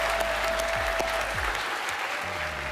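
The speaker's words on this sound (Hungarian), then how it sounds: "egy nagy tapsot megérdemelnek." Audience applause at a televised song contest semi-final, A Dal 2017, dense, even clapping from a large crowd that holds loud and steady from start to finish, with a faint tone and some low thumps beneath.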